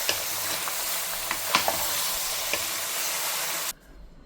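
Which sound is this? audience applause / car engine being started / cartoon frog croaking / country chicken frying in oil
country chicken frying in oil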